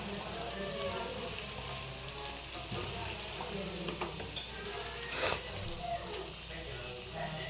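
Green chillies and curry leaves frying in hot oil, a continuous crackling sizzle at moderate level with a brief louder burst of spatter midway, over a steady background hiss.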